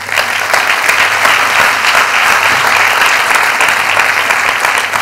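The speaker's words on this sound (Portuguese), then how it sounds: "Uma salva de palmas para eles, por favor." Warm, steady applause from a seated audience at a Portuguese digital transition plan presentation, honoring invited guests; a continuous, even burst of clapping without speech.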